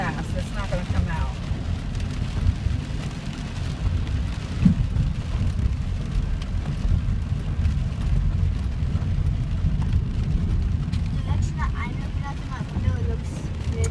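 Steady broadband roar of a heavy thunderstorm with pouring rain and low rumbling thunder, continuous and fairly loud throughout, with a sharper burst partway through and faint voices now and then underneath.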